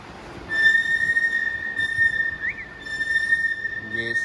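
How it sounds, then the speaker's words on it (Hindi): Brake pads on a Mitsubishi Pajero giving off a steady high-pitched squeal, a sustained whistling tone that holds almost unbroken, rises briefly and fades near the end, over a low background rumble. "अब ये साउंड जब आए ना यार ब्रेक पैड्स में से, मतलब कोई प्रॉब्लम है ब्रेक पैड्स में।"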